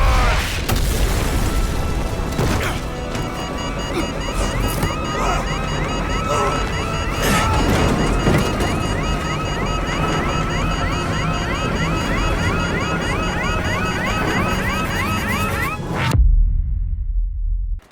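Call of Duty 4: Modern Warfare game audio booms and crashes in a dense, loud, continuous roar with layered rumbling and blasts and a jarring impact near the end before abrupt silence.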